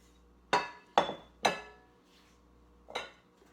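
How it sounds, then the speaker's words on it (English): Bowls are shifted around a kitchen workspace while making yeast rolls in a cast iron skillet. Four crisp, close clinks ring out: three in quick succession, then a single one after a short pause, each fading quickly. "Get these bowls out of the way for you"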